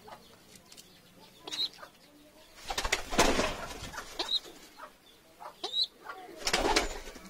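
Sirazi pigeons coo in repeated soft bursts at close range, with a few wing flaps and rustles between calls and some louder flurries of activity.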